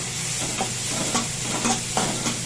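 Sautéed onions stirred with garam masala in a pan, a close, steady soft sizzle with a few spatula scrapes recurring at roughly half-second intervals.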